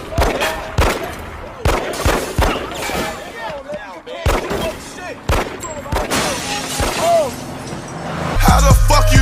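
Rapid gunfire cracks out in irregular bursts of sharp, loud shots, separated by short gaps, with voices heard between them.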